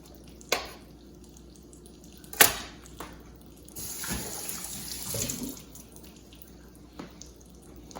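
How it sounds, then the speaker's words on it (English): Cold water runs steadily from a tap in the background with a few clinks and knocks as meat is rinsed, quiet and close, no voices. "rinse it off with cold water."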